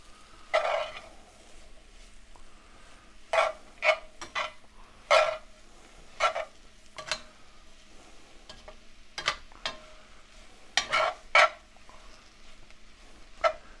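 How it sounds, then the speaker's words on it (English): Garlic stirred in a hot pan while cooking Cajun gumbo, several short scraping and sizzling bursts at irregular intervals from a spoon against the pan, close by over a quiet background. "Add in some garlic."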